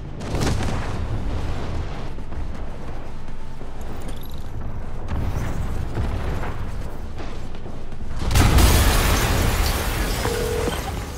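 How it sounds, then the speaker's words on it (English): Rumbling blasts and booming bursts from an explosion in a Spider-Man video game, sustained throughout with a louder surge near the end. "an explosion just... I saw it."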